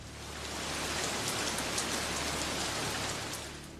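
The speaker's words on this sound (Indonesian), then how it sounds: "Sampai tiba-tiba datang hujan badai deras banget." Heavy storm rain pours down steadily in the mountains, a dense, continuous hiss of downpour that stays loud and even throughout with no other sounds.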